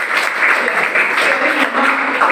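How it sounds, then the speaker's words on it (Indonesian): Audience applause at a university marketing-channels lecture, a steady wash of clapping that fills the whole stretch at fairly high level, with no break. "Tepuk tangan dulu dia Pak."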